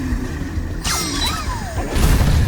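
Noise-activated enemies in the video game Astro Bot wake with a sharp whoosh and a sweeping electronic warble, then smash with a loud crash, all within a couple of seconds and without talk.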